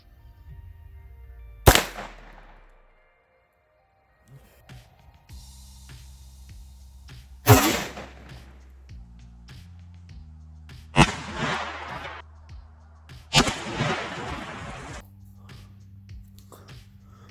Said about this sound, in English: I'm going to shoot a subsonic round in the 300 Blackout